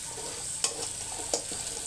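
Tomatoes sauté in a pan for Karnataka-style tomato rice, giving a soft, steady sizzle with two sharp stirring clicks against the pan.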